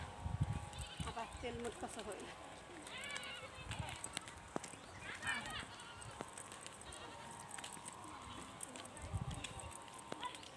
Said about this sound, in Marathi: बघा आमच्या गावातल्या शेळ्या